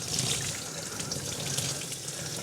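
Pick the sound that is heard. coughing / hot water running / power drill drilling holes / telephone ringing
hot water running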